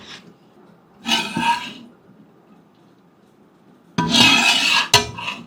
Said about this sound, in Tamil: இப்போது வடித்து வச்சுருக்க ரைஸை சிக்கன் மசாலா கிரேவியில் சேர்த்து ரைஸ்லாம் உடையாத மாதிரி பொறுமையாக கிண்டி விடுங்க